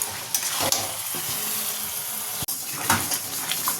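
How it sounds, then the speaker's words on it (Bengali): Chicken frying in a pan gives a loud, continuous sizzle and hiss with scattered clinks and stirring scrapes, close up and without talking. "এবার এর মধ্যে চিকেনটা দিয়ে দেবো।"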